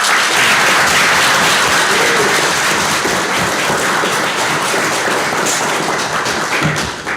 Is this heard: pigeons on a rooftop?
no